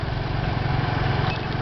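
An air conditioner's motor runs with a steady, close, droning hum and a low rhythmic throb that never changes, heard alone without talk.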